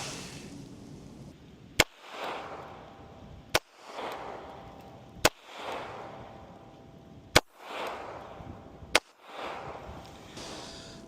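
Six sharp gunshots from a .380 ACP pistol fired at a target 5 yards away, evenly spaced about two seconds apart, loud and close, each followed by a short ringing decay.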